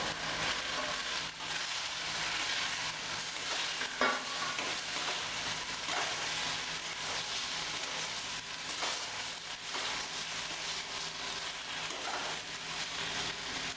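Fried eggs stirred into a boiling egg manchurian sauce give a steady close sizzle and bubbling with occasional spoon scrapes, with no talking throughout.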